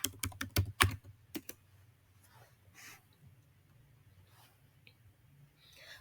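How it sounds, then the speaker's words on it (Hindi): Keys tapped on a computer keyboard while typing a search into a browser, a quick burst of close clicks at the start, then a few sparse taps and faint rustles. "आप गूगल सर्च बार में जाके गूगल ट्रेंड्स टाइप कर देंगे"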